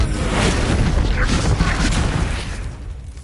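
A Confringo spell explosion in the video game Hogwarts Legacy, a loud, dense boom with crackling debris that rumbles continuously and fades slightly near the end.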